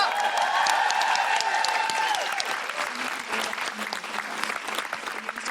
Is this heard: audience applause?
yes